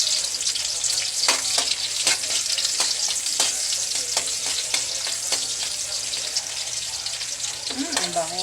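Onion and garlic sautéing in hot oil for a chayote and shrimp dish, a continuous loud sizzle broken by repeated sharp clicks of a utensil stirring against the pan, close up, with a brief faint sound near the end.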